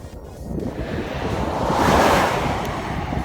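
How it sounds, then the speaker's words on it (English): Strong wind blows across a microphone while bicycling through the Nevada desert, a loud broadband roar that swells to a peak near the middle and then eases slightly, with no voices. "the further to the west side of this valley that I get, the more the wind picks up"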